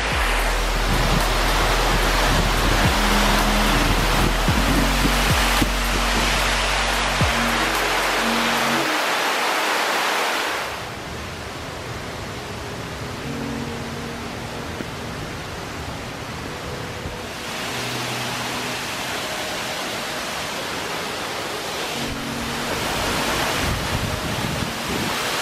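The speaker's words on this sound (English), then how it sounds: "But here's the waterfall." Steady, roaring rush of falling water from a waterfall on the Meander Falls circuit, loud and continuous throughout, shifting slightly in tone partway through.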